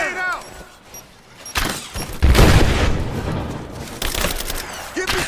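A grenade blast in Rise of the Tomb Raider bursts out loud and close, then rumbles into a sustained roar of gunfire and crashing combat noise, with shouted voices from soldiers calling out over the fighting.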